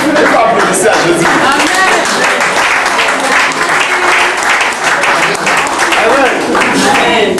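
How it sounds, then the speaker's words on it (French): A church congregation bursts into sustained, loud applause during a healing service, steady clapping filling the whole stretch with voices mixed in underneath. "il faut applaudisser à Jésus"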